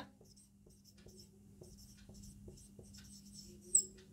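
A pen writes on paper during a physics lecture, with a series of faint, close scratching strokes in an irregular rhythm and short pauses, alone in a quiet room.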